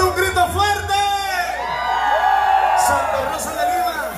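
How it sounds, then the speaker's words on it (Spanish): A concert crowd at a show yells and whoops loudly together, a sustained wall of shouting voices with rising and falling cheers that stays strong throughout, with a voice over it. "Necesito un grito fuerte."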